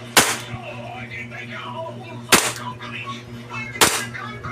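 A Hi-Capa 5.1 airsoft pistol fires on semi-auto, three sharp separate cracks about two seconds apart over a low steady hum, with faint voices between shots.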